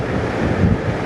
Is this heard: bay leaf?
no